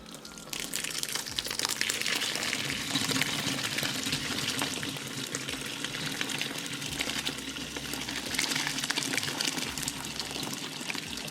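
Water runs from a sink tap over a wet muslin cloth laid in a strainer, a steady close splashing gush with faint crinkling of the cloth, no speech.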